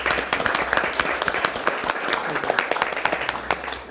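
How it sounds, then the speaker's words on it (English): A round of applause at a city council meeting in Tampa, brisk steady clapping from a modest group in a chamber, with some voices murmuring underneath. "Let's give him a round of applause."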